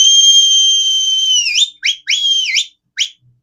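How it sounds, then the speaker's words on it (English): Loud, close whistling: a long steady two-tone note held for about a second and a half, then a few quick sliding chirps and a final short blip, with no talk. "What is that whistling that I hear?"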